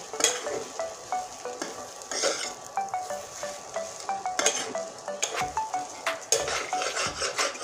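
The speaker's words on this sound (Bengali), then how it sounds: "এবার সুন্দর করে নেড়ে নেব।" A spatula stirs a dry potato filling seasoned with amchur powder for bread pakora in a metal pan, giving rhythmic scraping clinks and taps with a light sizzle underneath and no talking.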